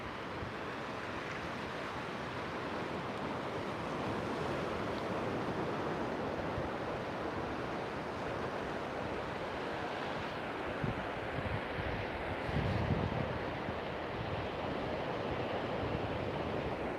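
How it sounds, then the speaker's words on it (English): Ocean waves break on a shore as a steady, continuous wash of surf, modest rather than heavy, with some wind over the microphone and no voices. "the waves aren't really big, but they're pretty nice"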